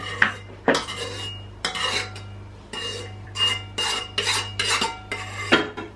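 A metal spoon clatters and scrapes repeatedly against a bowl in irregular bursts, close and fairly loud, with a steady low hum beneath.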